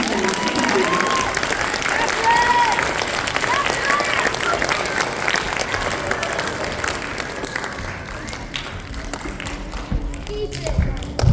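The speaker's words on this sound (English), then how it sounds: "please give them a big round of applause and recognize them" Audience at a school fall showcase applauds steadily, a dense wash of clapping that holds for the whole stretch and thins slightly near the end, with crowd noise and some voices mixed in.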